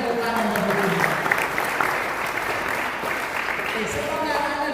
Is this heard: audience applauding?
yes